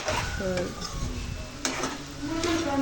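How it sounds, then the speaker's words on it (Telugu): Cauliflower stirred and fried in a pan for a Telugu-style fry, with steady sizzling under scattered scraping clinks of a spoon against the pan, close and moderately loud. "కొద్దిసేపు అలా కలుపుకుంటూ ఫ్రై చేసుకుంటే చాలా బాగుంటుంది ఇది"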